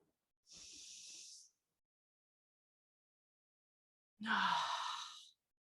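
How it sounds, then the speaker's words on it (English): Two deep breaths during a guided breathing exercise, each lasting about a second with several seconds of silence between them; the first is a soft breathy exhale, the second a louder, fuller one with some voiced rasp, close and alone. "That's breathing."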